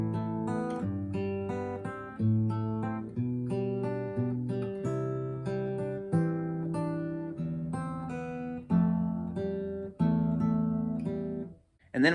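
Solo guitar plays the original climbing passage, a steady run of plucked notes and chords with no voice, ringing on until a brief fade near the end before one last attack.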